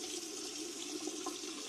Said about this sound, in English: you want to fill this bottom bowl with some hot water